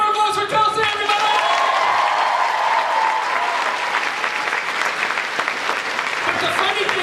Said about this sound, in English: Big round of applause for Kelsey, everybody!